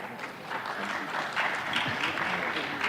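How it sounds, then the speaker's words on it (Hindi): An audience at a national conclave gives a steady round of applause, a dense wash of clapping from many hands that holds for several seconds at moderate volume. "सिर्फ थैंक यू पे इतनी तालियां बजने लगी"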